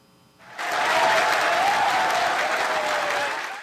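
Mission control staff burst into sustained applause and cheering after a helicopter hooks a rocket booster's parachute line over the sea. The clapping is loud and dense, starting abruptly and holding steady throughout.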